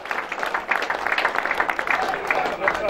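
A crowd applauds the stage winner at the Olympia's Tour cycling race stage in Reuver, a dense, steady clapping that runs under an announcer's voice throughout.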